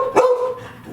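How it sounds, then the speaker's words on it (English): A house dog named Brownie lets out a single sharp, loud bark close by in a kitchen, followed by a short fading tail. "trying to talk in between the barks"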